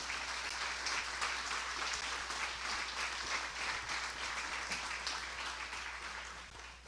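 A church congregation applauds steadily and fairly loudly in a dense, continuous wash of clapping that holds for the whole stretch, fading slightly at the end.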